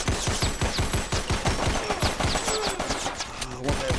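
Rapid bursts of gunfire from the VR shooter game Crisis VRigade 2 crackle in a dense, continuous barrage, loud and close throughout.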